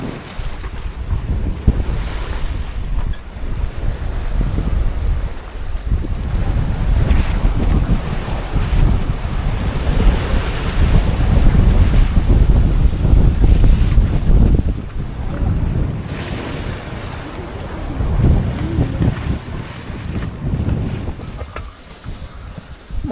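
A 33ft sailboat running downwind across the open Pacific, with steady wind buffeting the microphone and waves rushing past the hull, loud and continuous, swelling midway before easing.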